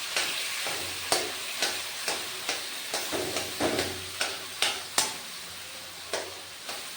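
A spatula chops boiled papaya pieces into small bits in a pan for a papaya dal. It makes a rhythmic series of sharp taps about twice a second over a soft, steady sizzle, close up and with no speech.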